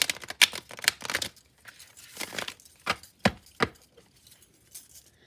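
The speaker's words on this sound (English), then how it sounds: "One more hard shuffle on the table" Tarot cards given a hard shuffle on a table, producing a few sharp, close riffling and slapping bursts separated by short pauses, crisp and fairly quiet.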